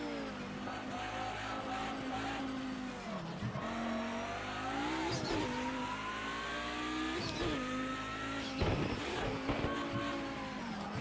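An Audi 90 Quattro IMSA GTO race car engine in the Project Cars 2 video game revs hard and continuously, pitch climbing through the gears with shifts and brief lifts off the throttle.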